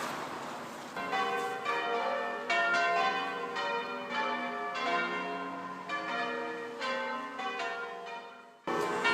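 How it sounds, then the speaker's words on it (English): Church bells at Winwick Church peal for a 10 o'clock service in a continuous, overlapping series of rings, fairly distant and resonant, with no talking. "They started calling service, 10 o'clock service, and that's what the bells are ringing for in the background."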